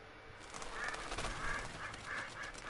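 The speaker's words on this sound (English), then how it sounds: "Ducks." Ducks quack in Red Dead Redemption 2, with a series of repeated calls at moderate volume over a constant outdoor game ambience.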